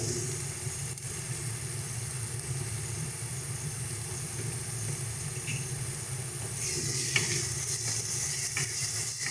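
Ground spices sauté in hot oil for a Bengali doi katla fish curry, a soft steady sizzle near at hand with low cooking hiss, growing brighter and louder near the end.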